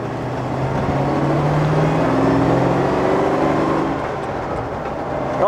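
Rover V8 engine running on LPG, a steady loud low rumble with a slight rise and fall in pitch as it revs, heard close and alone.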